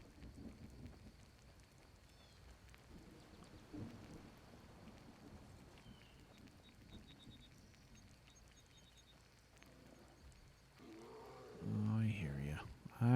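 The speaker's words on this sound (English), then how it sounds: "Starting to rain." Steady rain hiss in the Mortal Blade video game, continuous and fairly soft, with a deeper rumble of thunder suggested beneath; a voice comes in near the end over the rain.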